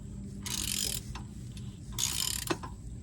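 A ratchet snugs the oil drain plug on a 2022 Toyota Tacoma V6 during an oil change, sounding as two close bursts of rapid clicking, each about half a second long, with a sharp metallic knock between them.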